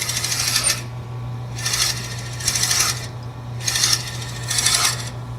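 A drill bit bores a hole in a toothpick dispenser workpiece on a lathe slowed to low RPM, giving five loud bursts of grinding, rasping cutting with short pauses between them over a steady low motor hum.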